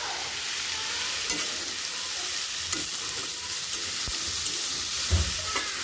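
Vegetables fry and sizzle in a pan after turmeric and chili powder go in, a steady bright hiss running throughout with a few soft stirring scrapes and clinks.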